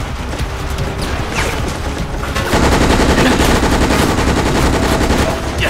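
Assault rifle fire in the Operation Raccoon City video game plays as loud, dense automatic bursts, with scattered shots first and then a sustained heavy barrage of rapid gunfire.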